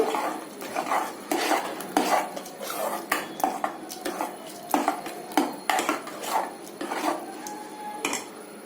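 A spoon stirs boiled moong dal into temple-style payasam in a metal pan, a quick, regular run of close clattering scrapes against the pan, about two per second.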